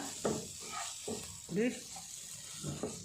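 Tomatoes fry in a pan for an aloo and green peas curry, giving a soft sizzle with a few louder stirring bursts under a person talking.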